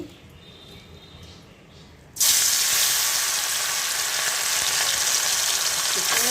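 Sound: fish frying in oil

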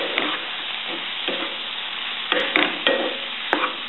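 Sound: stirring brussels sprouts and zucchini stir fry

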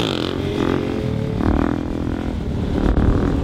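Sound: stunt motorcycle doing a wheelie

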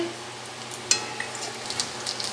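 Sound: cumin seeds frying in hot oil in a wok

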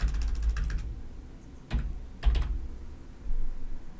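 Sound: typing on a computer keyboard

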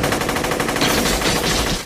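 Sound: gunfire in The Matrix film

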